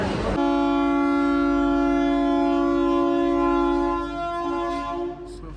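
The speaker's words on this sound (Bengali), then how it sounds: "ফাইনালি আমাদের ট্রেন ছেড়ে দিল এনজেপি থেকে" A Vande Bharat train's horn sounds one long, loud, steady blast as it departs NJP station, holding for several seconds before tapering off near the end, with rail rumble beneath.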